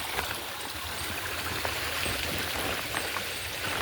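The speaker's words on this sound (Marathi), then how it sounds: "छोटासा एक ओढा आहे पाणी कमी आहे" A small forest stream in Konkan, low after little rain, trickles and burbles steadily nearby, a continuous bright wash of flowing water with no voices.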